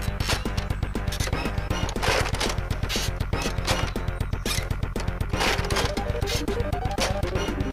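A Nerf N-Strike Vulcan EBF-25 blaster fires flat shots by bolt action in a rapid, loud, evenly spaced string of sharp clacks and thumps, one after another without pause.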